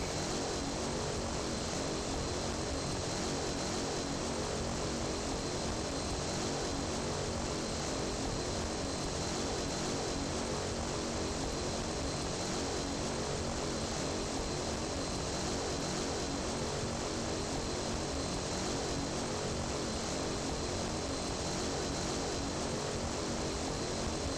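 A Thanda Super Cargomaster propeller plane in a flight simulator, on a full-length takeoff roll from Pocatello, gives a steady, loud, continuous engine and propeller drone that holds without a break from start to finish.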